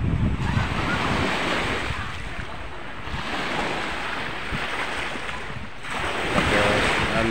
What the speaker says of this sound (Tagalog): Ayan o, malaking alon.